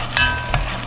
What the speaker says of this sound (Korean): 김치를 맛있게 매매 볶아줄게요